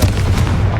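A Confringo fire spell bursts in Hogwarts Legacy as a dense, sustained low boom with a crackling rumble, loud and continuous through the short moment with no voices.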